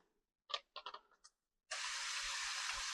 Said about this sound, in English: so let's just give them a little spray